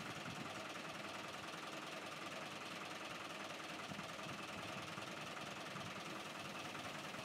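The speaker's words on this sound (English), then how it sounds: "it's just as well he's got an 80 horsepower truck engine in there" An 80 horsepower truck engine in a narrowboat on the River Lea in London runs steadily with a low, constant rumble and faint mechanical knock, close and unbroken throughout.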